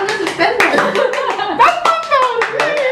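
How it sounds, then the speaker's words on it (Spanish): Scattered applause from part of an audience, a few hands clapping briefly and unevenly, mixed with voices talking over it. "Solo una parte del público te ha aplaudido"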